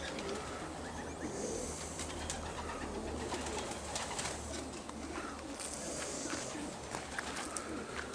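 Racing pigeons coo steadily at a one-loft race setup in Perth, Tasmania, with soft overlapping calls, occasional chirps and a constant low background rumble.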